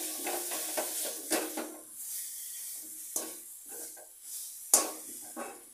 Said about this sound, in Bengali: ছড়িয়ে দিয়ে এটা নেড়ে চেড়ে নামিয়ে ফেলছি